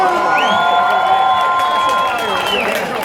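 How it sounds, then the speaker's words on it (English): A rally crowd in New York cheers and applauds mayoral candidate Curtis Sliwa, a loud, continuous roar of clapping and shouts with a long, sustained whistle-like tone held over it, and voices mixed throughout. "Another round of applause for our next mayor, Curtis Sliwa."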